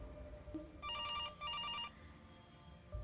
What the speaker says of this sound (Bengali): এমন সময় টেলিফোনের রিং শুনতে পেলাম। দোতলায় ফোন বাজছে।